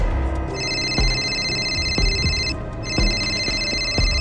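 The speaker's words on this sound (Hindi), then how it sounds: "तभी उसका फोन अचानक बज उठा।" A phone rings steadily with a bright electronic tone in two long bursts, loud and close, with faint clicks and a low hum beneath.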